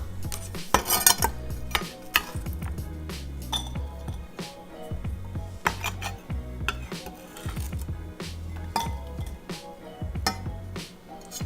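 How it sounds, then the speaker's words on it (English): Ingredients for a vegan bacon and cheese omelette go into a mixing bowl, with repeated clinks and clatters of utensils against dishes, near and irregular, the sharp taps scattered throughout. "at this point, we're just going to put them in a bowl"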